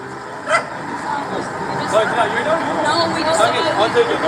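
A dog caught on a highway barks and whimpers in short yips, with traffic noise behind and people talking over it.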